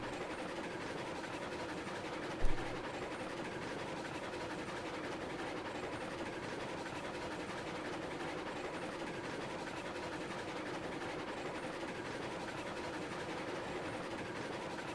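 A steam locomotive chugging through a forest in the video game Railroads Online gives a steady, even rolling rumble that runs without a break, with a single soft thump early on.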